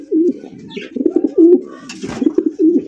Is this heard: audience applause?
no